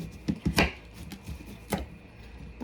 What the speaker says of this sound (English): you have to kind of work with your knife because rutabagas are hard